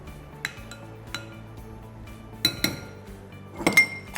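Browned garlic tempering is poured over yogurt for a chilli garlic raita and stirred in, with a handful of sharp metal-on-bowl clinks and taps scattered over a quiet kitchen background, no talking.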